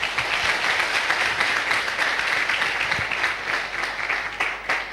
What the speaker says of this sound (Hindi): एक बार आप लोग अपने लिए तालियां बजा लें।